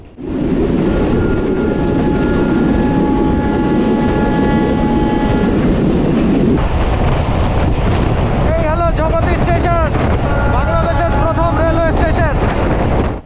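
The Modhumoti Express, running with an old vacuum-brake rake on the Rajshahi route, rumbles loudly and close, with sustained horn tones early on and a shifting whine later.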